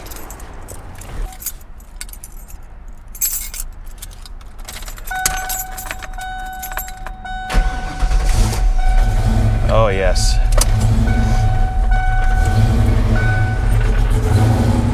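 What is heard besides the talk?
1993 Ford Mustang turbo engine starting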